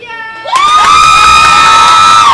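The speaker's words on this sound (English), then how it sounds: "please give Maggie and Morgan some love" A crowd at Avicolli's bursts into loud cheering and high whooping for two girls' lacrosse players, rising suddenly after a quiet start and holding strong to the end.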